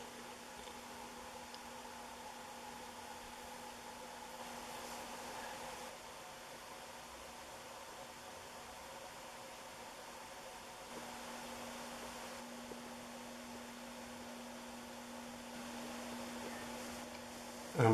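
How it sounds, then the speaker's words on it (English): A 1984 4 Saisons Victorian 132 cm ceiling fan turns at its lowest speed, giving a faint, steady whoosh of moving air over a low constant hum. "It does about 85 RPM on the lowest speed. It already blows a lot of air."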